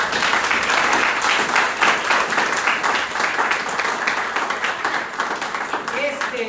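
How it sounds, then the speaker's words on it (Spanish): A church congregation gives the Lord a loud round of applause: vigorous, close clapping with audible individual hand strikes, mixed with voices and cheers from the crowd, holding strong from start to finish. "Denle un fuerte aplauso al Señor."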